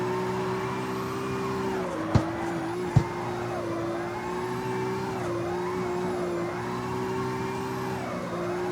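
Prototype drift car in CarX Street sliding in sixth gear, a sustained high engine drone with tire squeal wavering over it and two sharp clicks early on.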